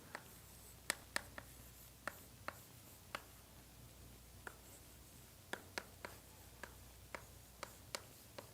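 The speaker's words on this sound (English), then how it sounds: "I'm going to write the most important thing, I think, which is I'll write in orange." Faint, sparse taps and scratches of pen or marker writing in orange on a board or tablet during a partial differential equations lecture, irregular short strokes over a quiet room hum, with no speech.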